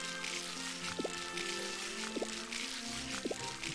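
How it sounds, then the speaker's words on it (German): In the video game Harvest Moon: Light of Hope, crops are watered with three soft, evenly spaced drip-like splashes over a quiet, steady background. "Gießen, gießen, gießen bis zum Erschließen."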